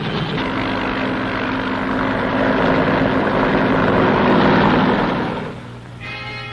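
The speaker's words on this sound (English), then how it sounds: "Fleets of helicopters lift men and artillery into the hills surrounding the base." Helicopters fly overhead with a loud, steady rotor and engine roar that holds for several seconds, then eases off near the end.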